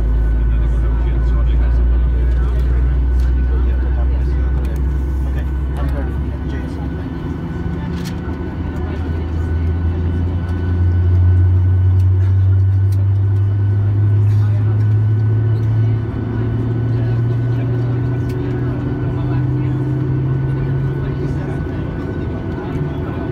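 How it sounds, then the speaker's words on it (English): Inside the cabin of a Norwegian Boeing 737-8 jet, the left engine starts up: a loud low drone swells and slowly rises in pitch over many seconds, with a steady roar and faint cabin rattles throughout. "so this is our engine starting,"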